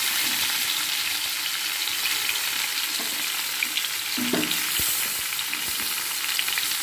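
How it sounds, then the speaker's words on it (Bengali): Mangoes sizzle and fry in hot oil in a home kitchen pan, a constant close crackling hiss broken by a few scraping stirs, with no talking. "তেলের মধ্যে আমগুলো ভাজা হয়ে যাবে"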